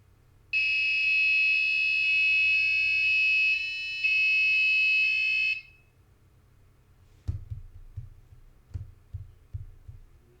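A homemade digital piano sounds sustained electronic tones for about five seconds, bright buzzy beeps with a short break, then silence followed by a few soft thumps.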